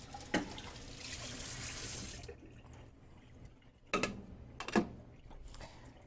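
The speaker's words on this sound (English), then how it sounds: "We'll get this rinsed right away because it's really dark and will darkly stain our beaker here, or our graduated cylinder" Running tap water rinses a stained laboratory graduated cylinder, a faint hissing flow for about two seconds, then quiet with a few sharp clinks and splashes of glassware in the sink.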